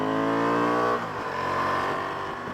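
A 2023 Honda XL750 Transalp engine revs hard, its rising harmonic whine climbing loudly before dropping into a rougher, lower drone as the bike pulls away nearby.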